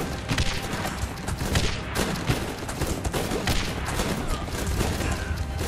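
Dense, continuous gunfire and explosions from the tactical shooter video game Guns Up!, a loud unbroken barrage of shots, booms and crashes lasting throughout with no pauses.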